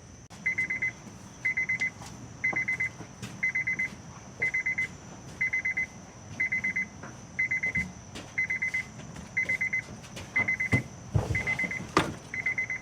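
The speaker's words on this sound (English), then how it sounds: "Sorry for the beeps." A 2006 Honda CR-V's electronic beep repeats at a steady pace, each short high tone sounding in a quick burst, over a quiet hum with some faint clicks.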